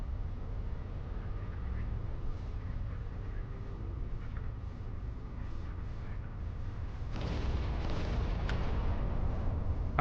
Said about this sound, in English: Multiple good explosions and good hits there.